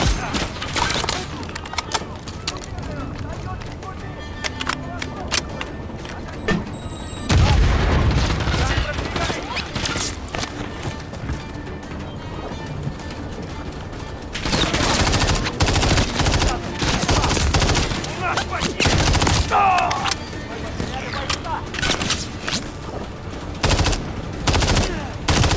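Enemy fire in a Call of Duty: Modern Warfare 3 campaign mission: loud, dense bursts of automatic gunfire with rapid cracks and heavier booms, pausing and resuming in waves, while French-speaking characters talk over the fighting.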